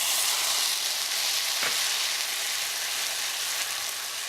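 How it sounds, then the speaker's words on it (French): White wine poured into a pan of black rice, onion and garlic cooking in olive oil, giving a steady, even sizzle with one faint tap partway through and no talking. "Versez le vin blanc,"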